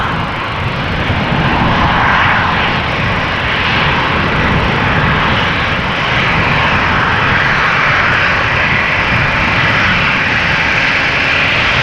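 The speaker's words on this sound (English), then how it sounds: "E2 Embraer also coming this way on the left." An Embraer E2 jet approaches at Amsterdam Schiphol, a loud, broad, continuous engine roar close by that stays steady throughout with no voices.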